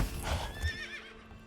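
In the video game Manor Lords, a horse's hooves clop twice, close and clear, then a whinnying neigh rises and wavers before fading, heard alone without talk.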